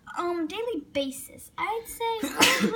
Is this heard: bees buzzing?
no